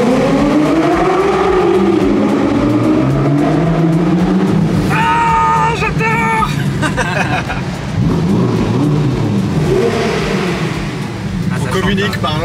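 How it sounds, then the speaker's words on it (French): A speedster sports car in a mountain tunnel or road run revs hard ahead, its exhaust rising and falling in loud bursts with sharp crackles, while people talk over it from inside a following Ferrari Roma. "la magnifique speedster devant nous qui chauffe un peu les pneus et l'échappement"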